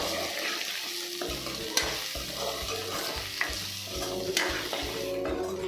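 Pepper and cumin stirred into a frying pan of cabbage palya: steady close sizzling with repeated scraping spoon strokes and a few sharp clinks against the pan.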